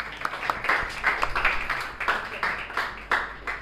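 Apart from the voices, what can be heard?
classroom applause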